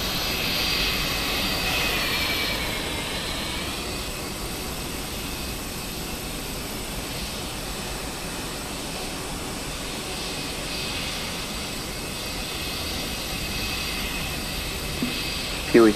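Airbus A321 jet engines spooling up during start in Microsoft Flight Simulator 2024, a steady loud broadband roar with a rising whine that settles into a constant drone for the whole stretch.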